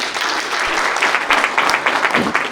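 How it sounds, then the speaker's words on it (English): An audience at a reading in translation gives warm applause as readers come to the stage, a dense, lively clapping that swells and flickers unevenly for a couple of seconds. "with a warm round of applause"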